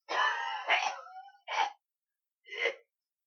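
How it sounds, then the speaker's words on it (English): A man coughs in a few harsh, breathy bursts, a longer strained fit followed by two short separate coughs, close and alone with silence between. "I can't do anything because of this cough."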